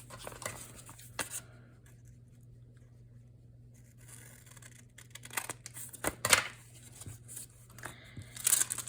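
Scissors trim excess paper from a junk mail envelope, with crisp close snips and papery rustles in bursts, a quieter stretch in the middle, then louder cutting and crinkling toward the end over a low steady hum.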